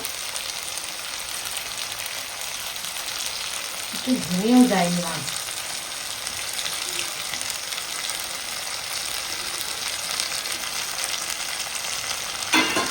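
Whole koi fish sizzle and crackle steadily in hot oil in a pan, a constant close frying hiss that runs the full length while a voice speaks briefly near the middle.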